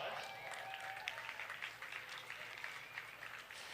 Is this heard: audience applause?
yes